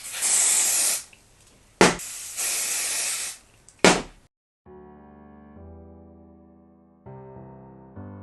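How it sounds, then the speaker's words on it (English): Several hissing bursts from an aerosol can of lace bond spray applied to a lace wig, two long sprays each ending in a short sharp puff, followed by soft music. "So I'm just gonna apply my spray."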